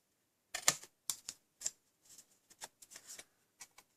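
Metal snips cut through the corner of a cardstock card in a series of quick, crisp snips, spaced irregularly and quiet against near silence.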